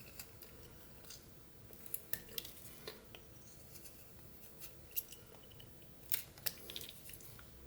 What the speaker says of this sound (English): We're going to basically put our knife in the wood, straight into the wood.